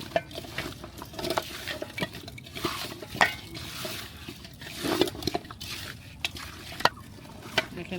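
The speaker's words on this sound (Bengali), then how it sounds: "নিহারিটা মেখে নিচ্ছি এখানে" Beef nihari meat is mixed with spices and oil in a pot, giving soft wet squelches and scattered light clinks of utensil on metal in an uneven rhythm, close and fairly quiet.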